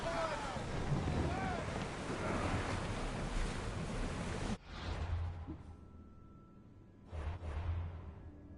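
A ship sailing at sea in Assassin's Creed Odyssey: steady rush of waves and wind against the hull, loud and continuous, then cut off abruptly into quieter water sounds with brief surges and a voice calling out.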